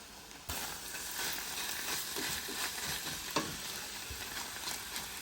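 Dandelion, kale, swiss chard and spinach greens with pine nuts are stirred in a frying pan, a soft steady sizzle under scraping spoon strokes and occasional light clicks, close and quiet.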